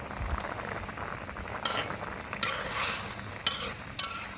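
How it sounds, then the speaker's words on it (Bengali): Tengra fish goes into a pot of simmering okra curry, with a soft, steady bubbling sizzle and a few sharp clinks and splashes from the pot and utensil. "সবজিটাতে বলক এসেছে, এখন আমি মাছ দিয়ে দিচ্ছি।"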